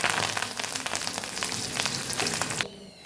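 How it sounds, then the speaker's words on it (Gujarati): Curry leaves, fennel seeds and sesame seeds hit hot oil for a tempering, giving a loud, crackling sizzle up close that cuts off abruptly near the end. "મીઠા લીમડાના પાન નાખીને એનો વઘાર કરવાનો."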